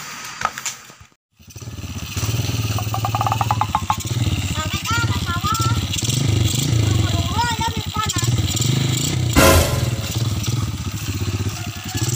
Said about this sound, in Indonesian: Nyokot motor bae heula.